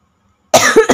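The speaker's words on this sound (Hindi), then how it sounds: "बहुत खांसी हो रखी है।" A single sharp cough bursts out after a moment of silence, close and loud, followed by a brief second hacking push.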